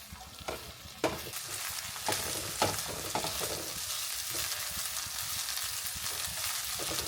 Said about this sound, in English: Cooking a little bit more of the chorizo.